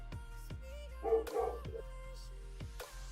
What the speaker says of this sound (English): I think my dog got a hold of something.